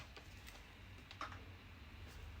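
Quiet clicks of typing on a computer keyboard, a handful of separate keystrokes tapped out over about two seconds with no talk.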